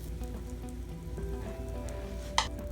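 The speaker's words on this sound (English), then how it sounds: "I'm going to put one of the tortillas in the pan" A tortilla frying in a pan sprayed with cooking spray gives a steady, soft sizzle that holds even throughout, with one brief sharper crackle near the end.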